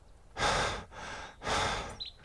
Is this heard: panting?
yes